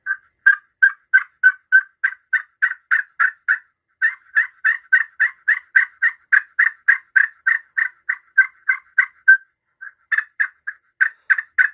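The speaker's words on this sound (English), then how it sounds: "I'm going to use my Primos board right here, and then I'm going to do it on the Quaker" A Quaker Boy Magic Touch slate turkey call worked with an acrylic striker, giving long runs of loud, rapid yelping clucks in steady rhythm with a couple of brief pauses, close and alone.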